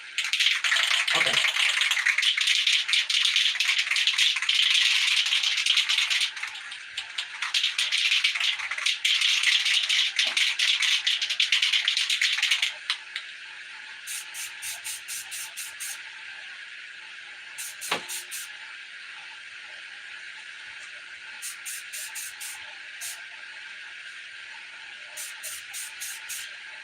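A can of gold spray paint hisses loudly in long continuous bursts for several seconds, later followed by quieter repeated quick rattling shakes of the can, with brief talk in between.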